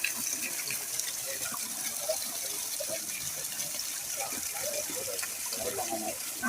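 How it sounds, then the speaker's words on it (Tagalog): Water gushing steadily and overflowing from a pipe at a hillside water tank, a continuous rushing wash heard outdoors with faint voices in the background. "Grabe yung tubig. Ang dami umaapaw."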